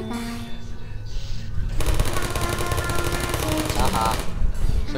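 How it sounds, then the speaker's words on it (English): A turret in Portal fires a rapid, continuous stream of loud shots that starts abruptly and runs for about three seconds, with a quieter stretch of faint sounds before it. "Stop with your shooting."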